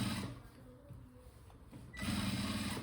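A sewing machine runs steadily while stitching a Madhubala-style blouse, fairly quiet and close, its hum dipping briefly before picking up again more strongly near the end.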